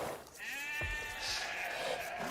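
A sheep bleats in the video game Age of Empires II, one clear wavering bleat of about a second set against a bed of game sound and music.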